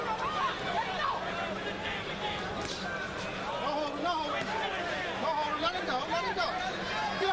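At a heavyweight boxing match between David Tua and Hasim Rahman, the arena crowd keeps up a low, steady murmur of expectant chatter, with a commentator's voice talking over it.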